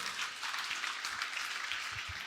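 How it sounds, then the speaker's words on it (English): A church congregation claps during a prayer service, a faint, distant patter of hands that stays low and steady throughout. "Clap for Jesus Christ"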